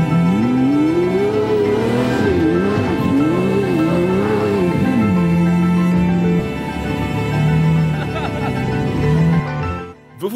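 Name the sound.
Lamborghini Murciélago car arriving, engine revving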